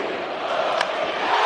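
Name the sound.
baseball crowd cheering in a played broadcast call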